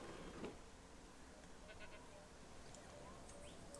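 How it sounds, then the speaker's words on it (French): A goat bleats in the dinosaur park game Jurassic World Evolution 2, a brief faint call early on over a low steady game background. "Oh, une chèvre."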